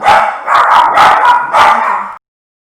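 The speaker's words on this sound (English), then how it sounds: "I think someone's at the door, so he's barking" Loud, close dog barking in rapid, overlapping bursts that fill the clip, then stops abruptly into silence, as someone is at the door.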